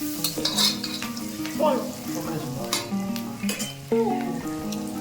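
Chopped onions frying in hot oil in a pan for noodles, a steady close sizzle with occasional stirring scrapes and clinks, no talking.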